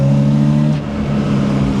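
Toyota Altezza fitted with an SR20 engine, loud and close as it runs on a drive, a steady droning engine note with a slight dip and recovery in revs.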